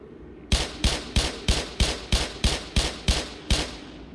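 Gunfire in the video game Black Mesa: ten sharp, evenly spaced shots about a third of a second apart, each a loud crack with a short decaying tail, starting after a brief quiet lead-in.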